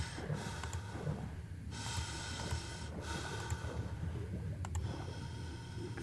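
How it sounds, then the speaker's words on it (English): Frank's heavy breathing in the Nancy Drew game, slow rasping inhales and exhales in long drawn-out bursts, close and hoarse over a low rumbling background. "Frank's heavy breathing here is not it, though, guys."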